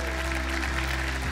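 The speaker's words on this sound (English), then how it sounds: "I'm going to ask all of our regulars to give a good round of applause to those with us for the first time." A church congregation gives a round of applause to first-time visitors: a dense, steady wash of many hands clapping throughout, with no voices standing out.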